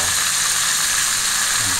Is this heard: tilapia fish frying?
yes